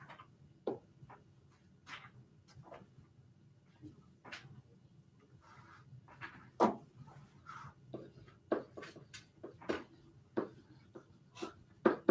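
A marker writes on a whiteboard in a quiet room, making sparse, soft squeaks and strokes of uneven length across the whole stretch. No one speaks.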